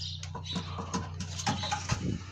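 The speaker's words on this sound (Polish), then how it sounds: "Tutaj z gniazdówki już trenują jeszcze gołębie." Young pigeons in a loft coo softly and repeatedly, with faint rustling between the calls, all fairly quiet and close by.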